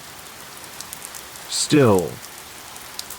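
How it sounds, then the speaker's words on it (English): Rain tapping on a window on a quiet night, faint scattered ticks spread across the whole stretch, with a soft voice speaking briefly in the middle. "when the rain taps on the window like it's trying to be let in"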